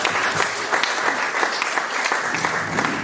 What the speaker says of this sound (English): That's a really generous round of applause